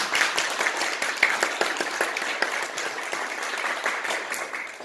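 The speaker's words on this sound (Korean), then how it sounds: "박수 한번 부탁드릴까요?" Congregation in a church clapping together after the pastor calls for it, a steady dense patter of many hands that holds evenly throughout with no voices over it.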